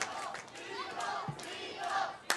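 Wrestling crowd at an Uproar Pro Wrestling match between Jay Lethal and Carson, cheering and roaring steadily throughout, with swelling waves of voices and a sharp shout near the end.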